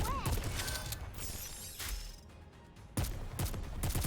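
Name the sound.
gun reloading in the video game Nikke: Goddess of Victory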